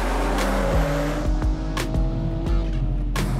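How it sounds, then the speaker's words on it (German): A BMW M240i xDrive all-wheel-drive coupe with a 374 hp engine brakes hard, tires squealing and scrubbing over a steady low engine rumble, with several sharp bursts from the car up close. "Erste starke Bremsung."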